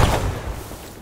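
A grenade explodes in the military video game Arma 3, a single loud, close boom that decays quickly into a rumbling tail.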